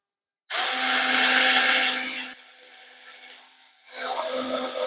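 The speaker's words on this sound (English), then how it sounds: "You're going to see if we can actually drill through." A Ryobi FVD51K cordless multi-head screwdriver whirs steadily at high speed, then drops to a quieter strained hum as it drills into thin wood before revving up again.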